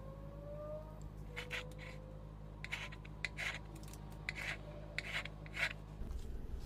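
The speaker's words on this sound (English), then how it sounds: "this is a screwdriver, another good tool for making marks in wet paint" A screwdriver tip scrapes marks into wet paint on a canvas, a series of short, soft rasping strokes in an uneven rhythm over a low steady hum.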